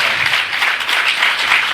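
Workshop audience at the MIND Manas Doctors event at Medicity MIMS, Hyderabad, clapping together: a dense, steady wash of hand claps with no pause, fairly loud throughout.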